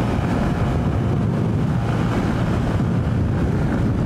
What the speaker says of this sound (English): The wind is gusty.